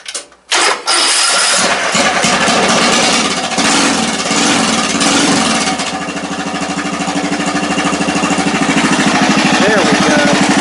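General Lee race car engine cranking after a short pause, then catching and revving into a loud, rough, rhythmic run that settles toward a steady idle, close up with no talk over it.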